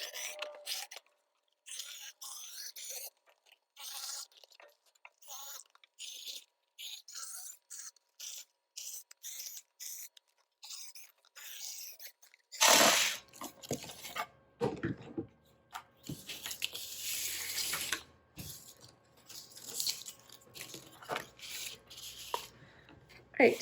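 Scissors snip through a cardboard piece for a pineapple 3D sculpture craft, with quiet rasping cuts and paper rustles through the first half, then louder, denser scraping and crinkling handling close by.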